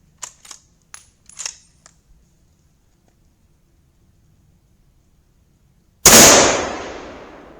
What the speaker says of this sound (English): 165 grain Sierra Match Kings and two shots.